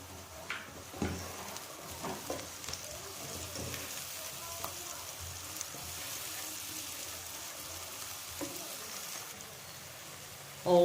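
Onions frying with potatoes in a pan for a Spanish omelette, a faint, steady sizzle with occasional soft clinks of stirring.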